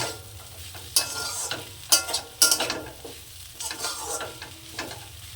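Red spinach with fish roe frying in a pan, a steady close sizzle broken by several sharp scrapes and stirs of a spatula, with no voices.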